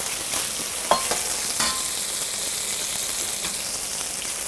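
Beef and caramelized onions stir-frying in a hot pan, a steady sizzle throughout with a few sharp clinks and scrapes of a utensil stirring, close and without talk.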